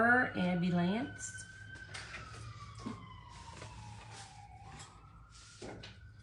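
An ambulance siren wails in the distance outdoors, a long falling tone passing by under rumbling traffic, while a person talks nearby.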